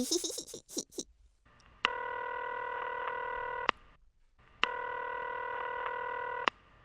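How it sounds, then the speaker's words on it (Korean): Telephone keypad tones in a children's cartoon as a character dials a theme park: two long, steady multi-tone beeps, each with a short click at start and end, separated by silence after some brief rustling. "여기 전화해봐야겠다"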